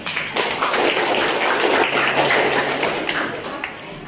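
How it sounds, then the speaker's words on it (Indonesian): Primary-school pupils clap together in a classroom lesson, a busy, continuous patter of many hands at fairly close range, with some faint voices mixed in. "Tepuk tangan."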